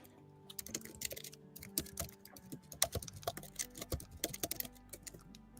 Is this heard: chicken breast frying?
no